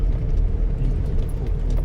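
Traffic rumbles along Maharlika Highway with a steady low road drone, heard close from inside or beside a moving vehicle, with no talk.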